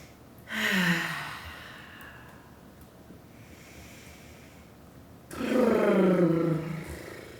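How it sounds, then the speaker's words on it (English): Deep, full yoga breathing during a restorative yin session: two long, audible breaths, one near the start and a louder one later, with a quiet pause between them and no talking. "Big full breathing here, folks."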